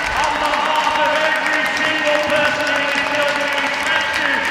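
Standing ovation from a huge Sunday afternoon ice hockey crowd at a Sheffield Steelers versus Cardiff Devils EIHL game, a steady loud wash of applause and cheering that fills the arena and holds evenly throughout.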